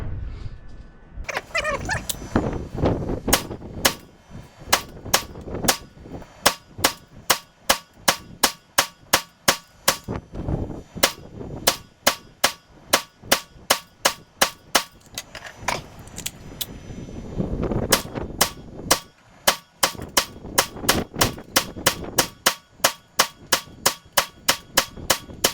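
Rapid, evenly spaced rifle shots firing Remington Thunderbolt bulk ammo, dozens of loud sharp cracks in quick succession with brief pauses, near and loud.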